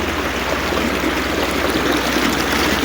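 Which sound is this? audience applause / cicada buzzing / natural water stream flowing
natural water stream flowing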